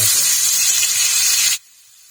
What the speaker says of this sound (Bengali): চিংড়ি মাছগুলো একটু ভেজে নিচ্ছি